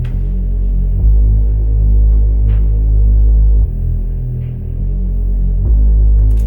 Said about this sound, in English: It's kind of like it's a Moog bass, so it has a lot of like depth to it.